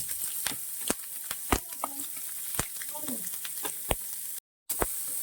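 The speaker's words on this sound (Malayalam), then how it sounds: "നമുക്ക് നന്നായിട്ട് മൂപ്പിച്ചെടുക്കാം" Ginger, garlic, green chilli and onion sauté with coconut in a pan for a prawn roast, giving a soft, continuous frying sizzle broken by sharp clicks of a spoon against the pan and a brief dropout.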